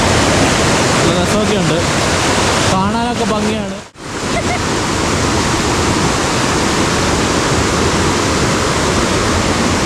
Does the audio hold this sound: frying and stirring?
no